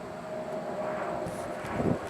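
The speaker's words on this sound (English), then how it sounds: "look at that propeller go" A Hobbyzone Sport Cub S RC plane's electric motor and propeller whir steadily up close, with a thin sustained tone and a rushing airy hum that swells slightly toward the end.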